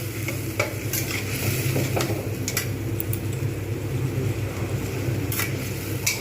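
Spice masala for a potato and soyabean curry fries in a pan with a continuous close sizzle, while a spatula scrapes and stirs in repeated strokes over a low, steady rumble.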